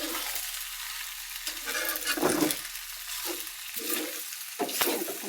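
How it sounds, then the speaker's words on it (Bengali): Scrambled eggs and pasta fry in a pan as a spatula stirs them. Soft sizzling runs throughout, broken by several distinct scraping strokes, moderately close and fairly quiet. "কড়া করে এখন ভেজে দেবো"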